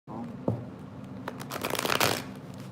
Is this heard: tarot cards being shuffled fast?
yes